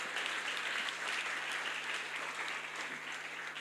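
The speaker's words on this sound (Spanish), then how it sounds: "denos un aplauso a este hermoso equipo que el Señor ha puesto" A church congregation applauds a ministry team, steady dense clapping that is soft and somewhat distant, continuous throughout without speech.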